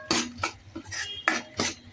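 A metal spoon stirs and scrapes a thick masala paste in a pan while sautéing for vada usal, with about six rhythmic clinking, scraping strokes close by.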